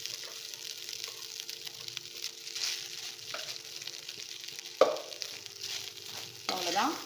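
A spoon stirs pepper rice with ghee in a pan, producing soft scraping and gentle sizzling in quiet, irregular strokes, with a sharper clink and scrape near the end.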